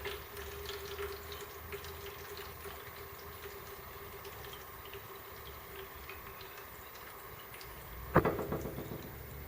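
Water poured through the barrel of a black powder rifled musket trickles steadily into a coffee can below, a soft continuous splashing with a brief louder burst near the end.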